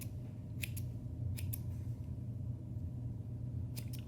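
Scissors snipping through thick sheepskin wool while trimming a leather keychain or ornament hat, a few crisp cuts in short pairs over a low steady rumble.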